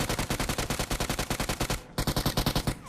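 Rapid automatic gunfire from the video game PUBG Mobile: a loud, steady burst of evenly spaced shots, a brief gap near two seconds, then another fast volley, close and with no talking.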